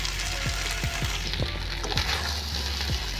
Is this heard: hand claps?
no